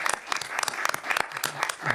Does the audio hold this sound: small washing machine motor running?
no